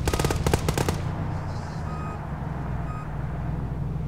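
Gunfire in ArmA 3 during a kart-racing mod: a quick burst of rapid automatic shots at the start, then a steady engine drone with a faint electronic tone and a soft thud.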